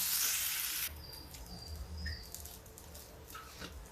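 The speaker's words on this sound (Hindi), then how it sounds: "थोड़ा गैस स्लो करके हम इसको फ्राई करेंगे" Chopped onions fry in a little oil over a low gas flame, a steady soft sizzle that starts with a brief louder hiss and then settles into quiet crackling.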